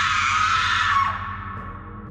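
A loud, harsh screaming effect in a horror story, a whisper turned into a painful, ear-piercing shriek, sustained and piercing for about a second before dropping to a quieter, fading wail.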